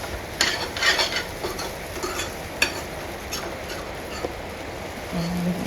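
Sabudana and potato being stir-fried in a pan, with scraping spoon strokes and light sizzling close by, a few sharper clinks, and a voice briefly present near the end.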